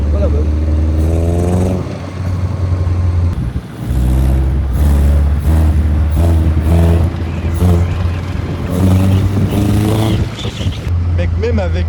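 Caterham Seven, a Lotus Seven-style roadster, accelerates on the road with a loud, close exhaust note that rises and falls across several revving pulls, while people talk over the engine and wind.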